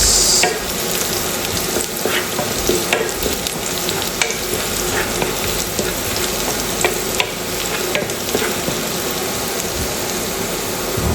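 Garlic fried golden brown in a pan, with onion added next, sizzling and crackling steadily and loudly, with occasional stirring scrapes and no talk throughout.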